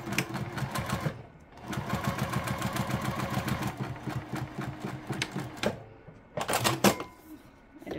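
A sewing machine top stitches along a folded edge in quick rapid-fire runs. The close mechanical whirring stops for short pauses, starts again in a long stretch, then ends with a final brief burst.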